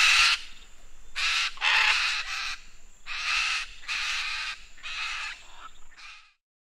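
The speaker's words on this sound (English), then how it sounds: "Macaw." A macaw gives a series of loud, harsh squawking calls, about six raspy bursts in an irregular rhythm, close and alone with no other sound.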